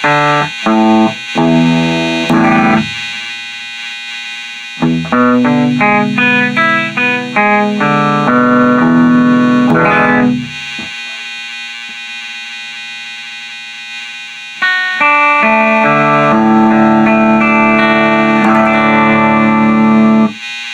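Distorted electric guitar strums several chords in bursts, each ringing out before pausing, loud and close with effects-laden sustain and no talking.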